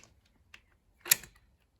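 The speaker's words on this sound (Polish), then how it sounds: "dokręcamy wszystkie kluczem" A hand wrench tightens bolts on a Yamaha TDM 900 motorcycle during pre-season servicing, giving a few faint metallic ticks followed by one sharp, close ratcheting clack in an otherwise quiet garage.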